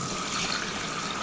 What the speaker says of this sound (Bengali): এখন দিয়ে দিব পানি।